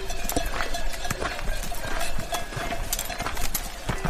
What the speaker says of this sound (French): Il y a un cheval et un âne.